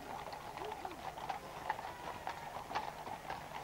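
Horses of the Household Cavalry clip-clop on a ceremonial parade route toward the Mall, a faint, distant patter of many hoofbeats under crowd ambience and low background noise.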